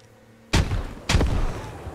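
A grenade detonates in the video game Squad: two sharp, loud blasts about half a second apart, each with a heavy low rumble that lingers and decays against quiet ambient battlefield noise.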